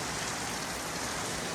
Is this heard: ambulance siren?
no